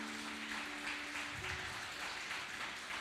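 A church congregation claps for the King during a Spanish sermon, a steady wash of applause with a held musical tone sounding underneath at the start.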